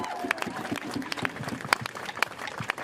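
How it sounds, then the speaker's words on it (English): Outdoor protest crowd outside the White House giving scattered applause, with loose individual claps and thuds over a noisy crowd background and some voices. "maybe you give a round of applause right now"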